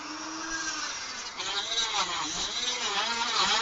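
A power tool grinds and cuts notches off a polycarbonate gimbal bracket, a steady whirring hum with shifting pitch as the blade bites into the plastic, close and continuous.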